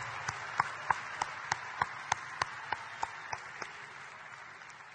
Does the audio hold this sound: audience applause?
yes